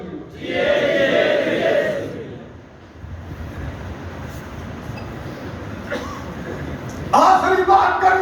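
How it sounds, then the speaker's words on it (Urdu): A crowd at a religious gathering in Hyderabad shouts a slogan in unison in a loud burst, then quieter crowd murmur, then another loud collective cry near the end. "نعرے نعرے نعرے سنیے"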